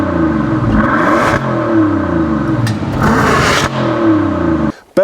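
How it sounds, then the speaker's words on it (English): A 2014 Bentley Flying Spur W12 sedan accelerates hard, its engine rising in loud, climbing sweeps through two gear changes before cutting off abruptly near the end; no talk. "It's unbelievable how fast this car will accelerate from 0 to 60."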